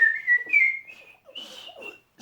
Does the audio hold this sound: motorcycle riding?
no